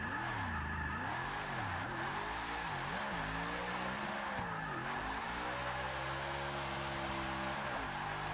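Simulated engine of a 1000-horsepower Z/28 Camaro in the racing game Forza 6, revving and swooping under hard braking with a continuous tire squeal, steady and loud throughout with no talking.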